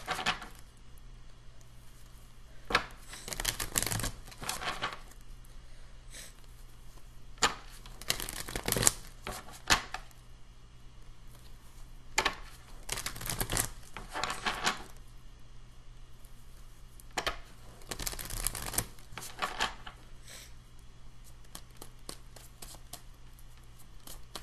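Tarot cards are shuffled in soft, quiet bursts of riffling and flicking, separated by short pauses, close by and with no talk.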